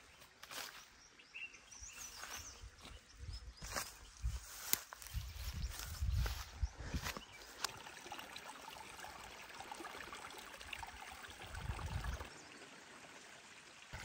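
Forest stream near Dadyal, Azad Kashmir, water trickling and splashing continuously over rocks, with a few louder gurgling bursts and birds calling faintly in the background.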